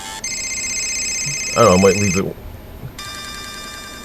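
An HTC phone rings with a steady electronic ringtone of repeated tones, briefly interrupted while someone speaks over it, then resuming.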